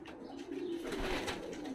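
Pigeons coo softly inside a loft housing black-tailed fighting pigeons in Tbilisi, Georgia, a low murmuring call with faint flutters and shuffling in the background, no talk.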